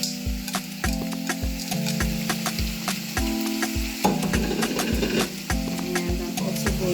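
Shredded, washed and deboned saltfish is stirred in a hot pot, giving a soft sizzle under repeated scraping strokes in a steady rhythm, alongside a background tone that rises and falls in steps.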